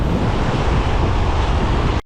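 Surf roaring steadily at Tamarama beach in Sydney, a dense continuous wash of breaking ocean waves with some wind buffeting the microphone, cutting off abruptly near the end.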